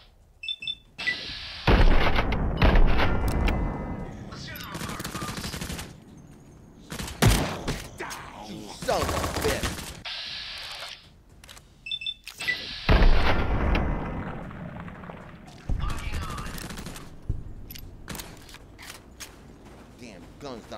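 Guns in a post-apocalyptic Fallout game fire in loud, booming bursts with heavy reverberating tails, spaced out irregularly across the stretch, with someone talking in the quieter gaps between volleys.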